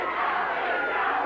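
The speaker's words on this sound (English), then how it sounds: "Fans screaming Tony." Wrestling arena crowd at a 1992 USWA event loudly chanting for Tony, a dense continuous wall of voices close and steady.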